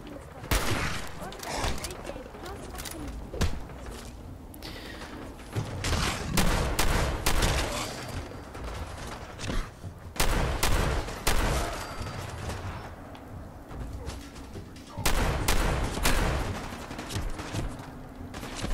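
Gunfire in the video game Fallout 4: irregular shots and short volleys, some sharp and close, others duller, spread across the span with game background noise and someone talking between shots.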